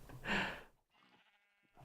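A Minecraft sheep lets out a single bleat, loud and close, followed by a quieter stretch of soft background game sound.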